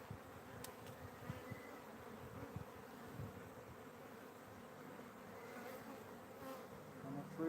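Honeybees hum steadily around hive frames during a hive split, a dense continuous drone close by with no voices.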